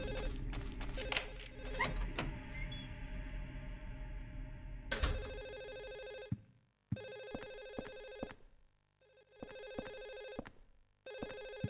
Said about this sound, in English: Phone got louder.